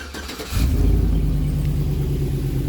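Buick Rainier engine with a custom Flowmaster exhaust cranks and fires up, settling into a loud, deep rumbling idle close by with a throaty low burble.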